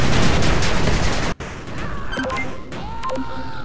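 Dense chiptune-style gunfire pounding a cannon turret in the 8-Bit Armies strategy game, a loud continuous burst that cuts off abruptly, followed by scattered lighter shots and electronic beeps.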